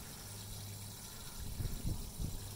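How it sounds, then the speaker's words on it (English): Water drains and gushes out of the in-bed trunk of a Honda Ridgeline pickup truck as a steady, close wash of flowing liquid with a few brief surges toward the end. "you want to drain all the water from the trunk"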